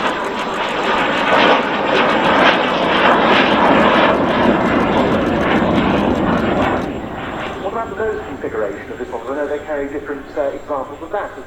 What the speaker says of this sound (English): Another unique thing you're never going to see at another air show is the gear up pass.